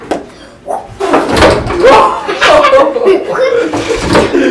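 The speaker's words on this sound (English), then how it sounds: "The door's beating up Lincoln." A door bangs repeatedly as a child kicks it, amid loud laughter and chatter from people close by.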